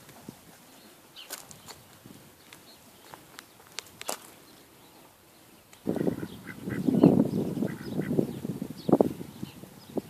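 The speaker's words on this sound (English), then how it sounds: "Ducks are getting ready for bed. They just got out of the pool." Ducks on a farm quack and honk together in a loud, busy burst after getting out of a pool, preceded by a few seconds of quieter footsteps and scattered calls.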